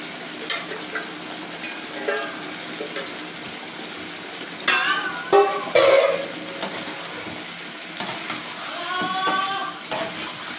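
Fried potatoes, ground spice paste and shelled peas are stirred in a pan, with a low sizzle broken by scraping, clattering strokes of a spoon and occasional bursts of movement.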